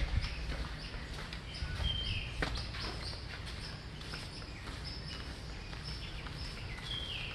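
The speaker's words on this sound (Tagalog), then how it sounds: "tunog ng mga ibon." Birds chirp at sunrise in El Nido, scattered bright tweets and short calls rising over a faint, low ambient hum, some near and some farther off, with no talk.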